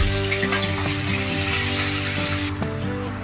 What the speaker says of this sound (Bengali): আদা রসুন দেব।